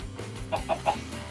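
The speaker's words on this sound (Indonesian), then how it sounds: "ada suara ayam tadi" Chicken clucking in the video game Minecraft, heard as three short, evenly spaced clucks of moderate loudness over a low background hum.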